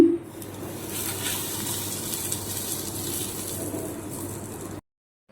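Hot oil poured over kasuri methi and spices sizzles with a steady, close crackling hiss that runs for several seconds, then cuts off into silence.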